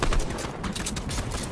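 A minigun spins up fire in a video game, a continuous loud rattle of rapid shots packed tightly together, steady for the whole short burst with no speech.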